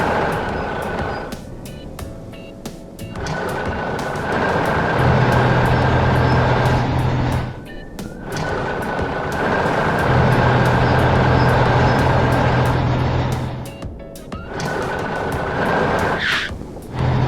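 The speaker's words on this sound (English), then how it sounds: "the rescue truck and fire truck set off through the heavy snowfall" Cartoon rescue and fire trucks driving through heavy snow give a loud, sustained engine rumble in repeated long bursts, with short dips between them and a steady higher tone riding on top.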